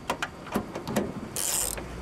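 A Gear Wrench new-style ratchet wrench clicking, with a short run of distinct close mechanical ticks followed by a brief burst of brighter metallic whirring.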